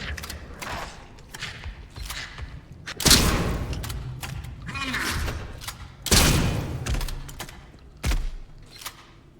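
Shotgun blasts in the video game Atomfall, about four loud booming shots spaced a couple of seconds apart, with mechanical clicks and clatter between them.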